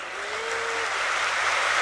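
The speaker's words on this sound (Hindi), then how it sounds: "और जोर से ताली बजाएंगे।" An audience at a spiritual gathering claps harder and louder, a dense continuous wash of applause that swells slightly over two seconds, with a brief tone gliding faintly underneath.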